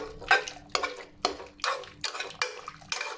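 A metal spoon scrapes and clinks against a pot of cooking pasta, about eight distinct scoops and taps in a steady rhythm, close and clear with no talk.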